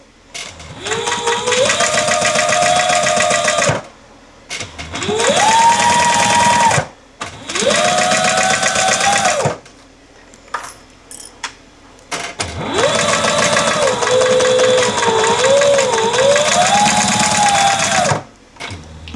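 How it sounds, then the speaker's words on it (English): A sewing machine stitches a fabric pouch seam in four sustained bursts of rapid whirring, separated by short pauses, close and loud. "And I'm sewing this at roughly a 1/4 inch seam allowance, maybe just slightly more"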